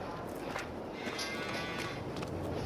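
Beef cattle low in a modded farming video game with a herd of a thousand cows, a few faint moos drifting over a steady quiet background.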